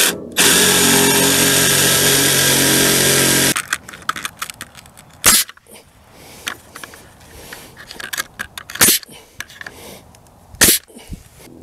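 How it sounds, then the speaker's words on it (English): A cordless jigsaw cuts through wooden fence boards in one loud, steady burst of about three seconds, then stops, leaving scattered clunks and knocks of handling the boards. "I don't know how I got by without this cordless jigsaw"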